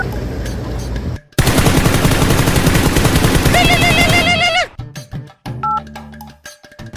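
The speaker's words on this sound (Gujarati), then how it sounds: "મારા જીગડીને ફોન કરો" A phone's dial pad being pressed to call a friend, a quick burst of electronic tones that rises to a steady loud electronic sequence, then a few shorter beeps as the call connects.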